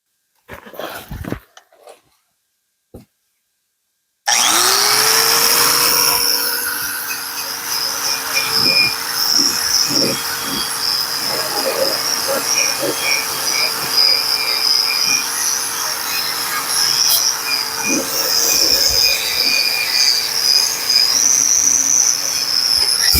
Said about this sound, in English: Let's get to grinding.